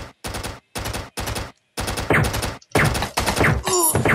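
Shotgun fire in a flash video game, a rapid series of loud synthetic blasts in quick bursts with brief gaps, followed by a few game sound effects.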